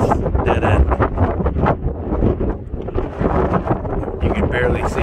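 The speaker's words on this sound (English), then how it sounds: "It's windy out here." Steady wind buffets the microphone outdoors at a campsite dead end, with a low rumbling roar and gusty swells, while a voice talks intermittently over it.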